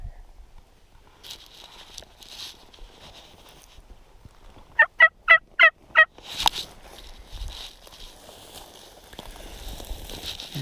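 A wild turkey gobbles during a turkey hunt in Hawaii, a rapid rattling burst of about six pulses, fairly close, amid soft rustling and quiet outdoor ambience.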